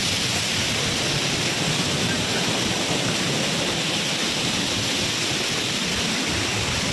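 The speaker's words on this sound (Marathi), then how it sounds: "बघा तिलार धबधबा झालेला आहे" Tamhini ghat waterfall pours in a constant, dense roar of rushing water, steady and loud throughout with no breaks.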